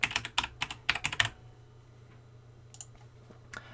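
Rapid bursts of keystrokes on a computer keyboard, a quick flurry of clicks over the first second and a bit, then quiet with a few scattered taps near the end.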